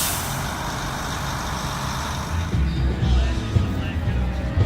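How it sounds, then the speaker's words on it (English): A truck rumbles along a Nashville street, its low engine growl swelling nearer midway amid city background noise, with a few clunks and a hiss of air. "Nice vehicle."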